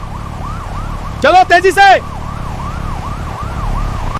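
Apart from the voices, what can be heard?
police siren wailing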